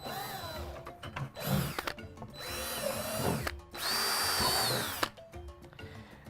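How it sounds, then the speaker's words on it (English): Power drill with a 1/4-inch bit boring holes through the bottom of plastic buckets, several separate whining bursts of drilling with short pauses between, close and fairly loud. "we're going to drill some holes into the bottom of every bucket"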